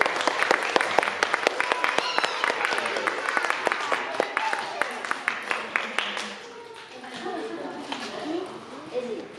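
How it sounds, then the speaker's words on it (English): An audience claps for Gapi in a loud burst of dense, scattered hand claps that thins out and fades into a few stray claps, with faint voices murmuring underneath. "Can we get a round of applause for Gapi?"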